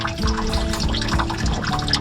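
Old, long-standing water sloshing and trickling inside the fuel tank of a cheap used boat, a continuous close liquid churn with gurgling and dripping and no voices.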